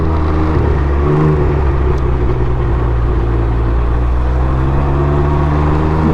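Can-Am Ryker three-wheeled motorcycle on the road, a loud steady engine drone with a low hum and shifting tone throughout, heard from the rider's position with wind rush and no talking.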